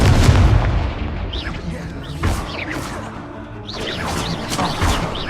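The Incendio fire spell is cast in the video game Hogwarts Legacy. Loud, dense blasts and crashing whooshes layer over one another as combat effects, with a voice heard in the mix.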